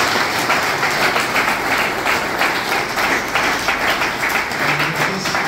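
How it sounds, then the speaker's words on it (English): Steady, dense applause from an audience at a Jesuit province assembly in Madhya Pradesh, many hands clapping together in a continuous, even wash that holds for several seconds without a break. "let's have a big round of applause"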